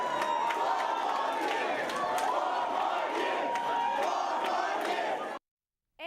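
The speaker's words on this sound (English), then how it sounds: "the crowd cheered." A crowd at an election night party roars and cheers loudly and continuously as re-election is secured, with shouts and whoops throughout before cutting off abruptly.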